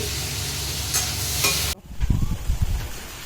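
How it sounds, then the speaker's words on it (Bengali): Pieces of elephant foot yam frying in a pan of oil, a steady broadband sizzle that breaks off halfway, followed by closer, lower bumps and scrapes of stirring. "এদিকে ওলগুলো ভাজার জন্য বসিয়েছি"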